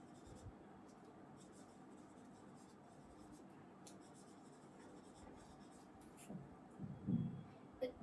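Faint scratchy pen strokes as short notes are written, soft and intermittent over a steady low room hum, with a slightly louder scrape near the end.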